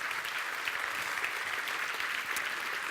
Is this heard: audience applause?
yes